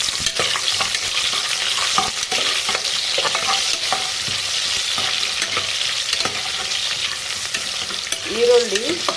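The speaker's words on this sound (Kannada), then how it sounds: "ಈಗ 2 ಈರುಳ್ಳಿ ಹಣ್ಣು ಉದ್ದುದ್ದು ಕಟ್ ಮಾಡಿಕೊಂಡು ಇವಾಗ ಫ್ಲೇಮ್ ಜಾಸ್ತಿ ಮಾಡಿ ಇದ್ರಾಗ ಹಾಕೋಣ" Sliced onions fry in hot oil over a high flame for vegetable pulao, a loud, dense sizzle with scraping stirs throughout, steady and close with no talking.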